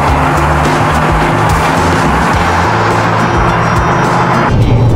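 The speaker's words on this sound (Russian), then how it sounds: "Честно говоря, очень даже некомфортно слышать этот рев мотора, звук." A Haval H3 SUV engine roars loudly and steadily under acceleration in fourth gear at around 72 km/h, a strained, droning motor note with road and tire noise filling the cabin, no talk.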